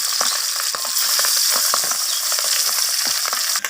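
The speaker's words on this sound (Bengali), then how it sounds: "তেল গরম হয়ে গেছে মাছগুলো আমি দিয়ে দিলাম তেলের মধ্যে" Pabda fish spatter loudly in hot oil for a mustard pabda dish, a dense, close and continuous sizzle with small popping crackles throughout.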